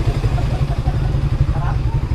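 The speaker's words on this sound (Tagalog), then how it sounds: "Ito ang matulin. Ang tulin itong motor na to." Fast motorboat engine on a boat in Mindanao, a loud steady low drone running throughout at close range, with some voices talking over it.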